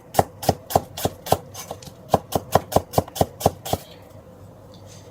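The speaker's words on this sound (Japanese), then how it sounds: "玉ねぎは3ミリぐらいの厚さに切ります。" A knife slices onion about 3 mm thick on a cutting board, a fast, even run of a dozen or so crisp, close knocks that stops abruptly, with no talking.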